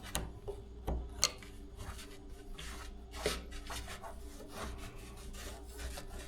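A blade cutting and shaving semi-hardened Bondo body filler on a whitetail deer taxidermy form, producing soft scraping, rasping strokes in an irregular rhythm with a few sharper scratches, close and fairly quiet, no talking.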